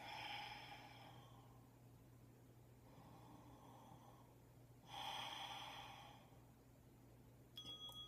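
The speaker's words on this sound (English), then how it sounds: "Breath work." Slow, audible breaths during a yoga breath-work exercise: a long airy inhale or exhale, a softer breath, then another strong breath, all close and quiet with a faint steady background hum.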